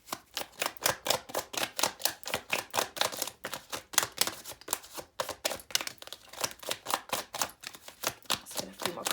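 Tarot cards being shuffled and drawn for a twin flame reading: a fast, even run of crisp, close flicking snaps, quiet and continuous with a brief pause midway, and no talking.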